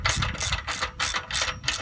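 A ratchet wrench clicks rapidly in five or six quick bursts while tightening the bolts on the center post of a RockGARD installation, loud and close with no voices.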